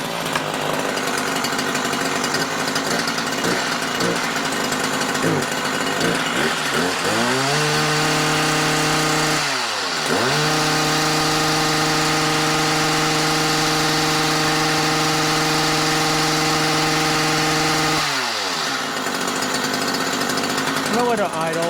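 A Stihl hedge trimmer's small two-stroke engine runs rough and bogs, then settles into a steady, buzzing idle that holds before it stumbles again, loud and close throughout.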